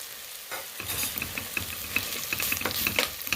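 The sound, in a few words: masala being sautéed on full flame in a pan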